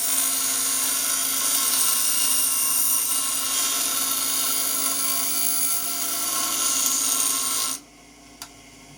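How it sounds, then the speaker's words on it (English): A bench grinder takes material off the flat edges of metal tubing for a dragboat, making a loud, high, continuous whine with a gritty grinding texture. It runs steadily for several seconds, then cuts off abruptly into near quiet. "So on large flat sections I'll use the bench grinder."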